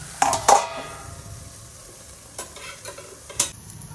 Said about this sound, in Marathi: छानपैकी परतून घ्यायची आणि त्याच्यावर झाकण ठेवायचं 2 मिनिटं।